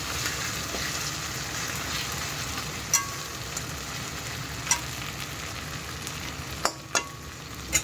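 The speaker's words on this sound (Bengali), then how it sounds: "এই পেঁয়াজের উপরে আদা বাটা দিয়ে নেড়েছে" Ginger paste stirred into frying onions in a pan, a continuous close sizzle broken by a few sharp utensil knocks and scrapes against the pan, with no speech.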